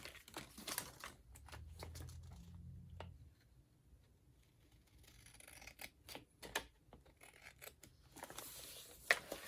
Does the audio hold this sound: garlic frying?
no